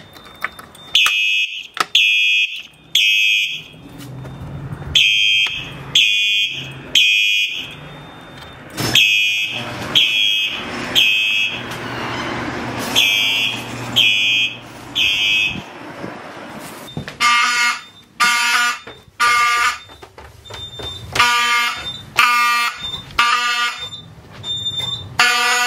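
An electronic 4903 fire alarm signal device sounds in repeated loud, shrill bursts with short gaps, shifting partway through to a faster pulsing tone pattern, fairly close and with no voices.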